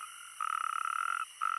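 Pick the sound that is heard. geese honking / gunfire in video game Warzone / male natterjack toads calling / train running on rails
male natterjack toads calling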